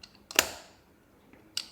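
Peak Design motorcycle phone mount snapping into its locked position: one sharp, close click, followed about a second later by a second, lighter click, in an otherwise quiet room.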